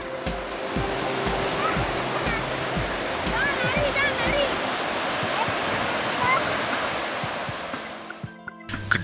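Tall surf breaks at Air Manis beach near Padang as a broad, steady roar of rushing water, with faint bird calls and other background sounds mixed in, before it thins out at the end.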